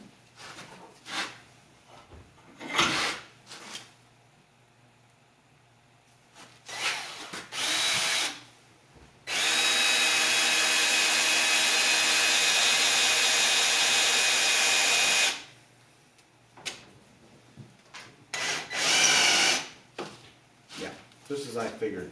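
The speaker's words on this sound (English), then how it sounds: "And drill my holes." A power drill bores holes for a home-built steering rack, with several short whirring bursts, one long sustained run of about six seconds, then more brief bursts. Someone speaks between the drilling.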